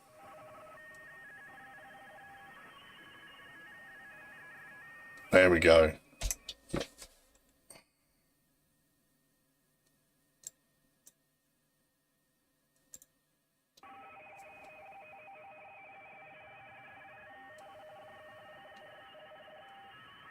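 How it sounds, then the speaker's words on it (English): Radio teletype signal received on the 80m amateur band during a contest: a steady warbling data tone, broken by a loud burst of clicks and a few faint ticks over silence, then the tone resumes. "It's radio teletype, so you know, it kind of does sound like a Commodore 64."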